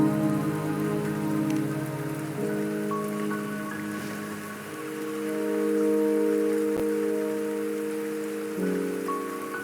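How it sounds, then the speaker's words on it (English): Steady rain falling in the video game Wuthering Waves, a continuous soft patter that holds at an even level throughout, with sustained musical tones layered over it and no talking. "Don't worry, the rain won't last much longer."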